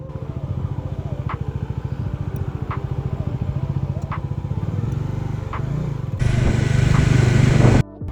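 A motorcycle rides through a long traffic jam on the road from Darjeeling to Assam. Its engine runs with a steady, close, pulsing rhythm, brief horn-like toots come through at intervals, and the noise swells louder near the end.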